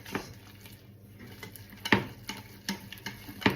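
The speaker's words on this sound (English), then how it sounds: "add in my butter and marmalade from earlier. Whack it all in there. Oh, left a bit behind. I'm going to whisk this." Butter and marmalade are whisked in a pan: a few distinct metallic clicks and taps of the whisk against the pan come at irregular intervals over a soft, quiet stirring background, close and alone.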